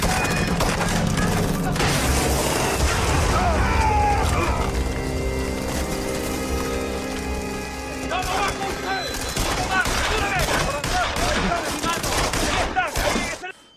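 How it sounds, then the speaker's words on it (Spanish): Bazooka fire and special-effects explosions in a TV drama action scene, heard as a dense, loud barrage of blasts and gunfire-like bursts mixed with music and voices throughout. "vemos al mexicano disparar una bazooka y con efectos especiales ponen las explosiones"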